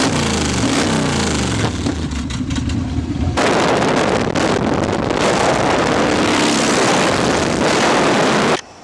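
A motorcycle with no exhaust roars past at close range, its loud raw engine sound swelling through the flyby, with heavy wind buffeting throughout.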